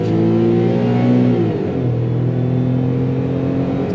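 Perodua Viva kei car with an automatic gearbox revs hard at wide open throttle, a loud close drone that climbs in pitch, drops sharply at a gear change, then rises again.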